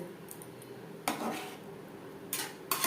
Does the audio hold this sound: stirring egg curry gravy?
yes